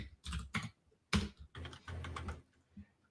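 Keys clatter on a computer keyboard as a chmod command is typed into a Linux terminal, coming in several quick, close bursts of keystrokes with short pauses between and no voice.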